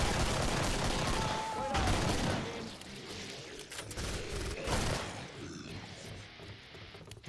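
Gunfire in the co-op zombie shooter Killing Floor, a handheld pistol firing several sharp shots in a busy, noisy game mix with voices talking over it.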